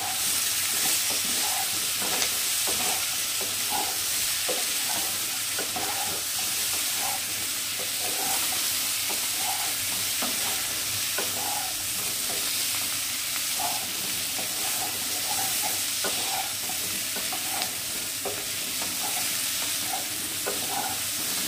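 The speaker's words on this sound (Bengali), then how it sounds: "আলুগুলো ভাজা হয়ে গেছে" Potatoes (mete alu) frying in hot oil with Kashmiri chilli powder for a tangra fish curry, a steady close sizzle broken by regular scraping stir strokes throughout, with no talking.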